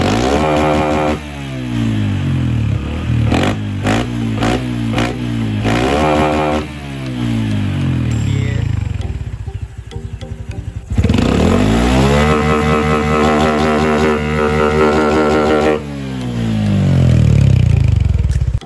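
Honda Wave 110i 2021 motorcycle revving hard through a semi-open aftermarket exhaust, rising and falling in repeated throttle blips with a raspy, loud, close-up roar.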